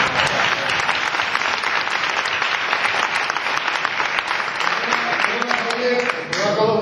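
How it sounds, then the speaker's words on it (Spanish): An audience in the Casino Teatro de Castropol breaks into sustained applause, a dense, even clatter of many hands filling the hall, and a voice begins talking as the clapping fades near the end. "Repetir el aplauso."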